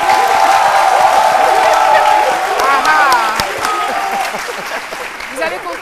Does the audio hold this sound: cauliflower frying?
no